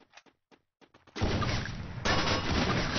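Gunfire in the Free Fire video game: a few faint clicks at first, then a loud, dense burst of rapid automatic shots that swells again near the end, with no talk over it.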